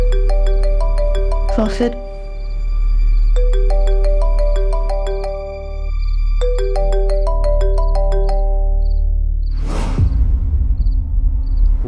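A melodic electronic phone ringtone plays in repeating tonal phrases while a person speaks briefly over it, with a couple of whooshing swells.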